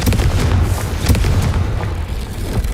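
Confringo fire spell blast in Hogwarts Legacy, a series of booming explosive bursts and crackling impacts rolling over a continuous rumble, loud and close, with no voices.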